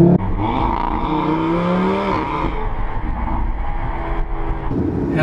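A 2018 Audi RS3 engine revs and accelerates, its tone rising and falling in a steady loud drone with no talking.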